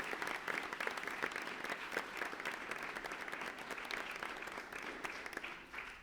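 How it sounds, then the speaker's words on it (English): An audience at a school board of education meeting claps in a sustained, even round of applause that holds steady throughout, fairly soft and heard from a distance, with no talking. "Let's give them all another big round of applause."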